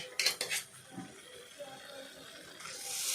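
A rita fish curry stirred in a cooking pot, with clanking of utensil against the pot in a few quick knocks at the start, then a softer scraping and bubbling hiss that builds toward the end.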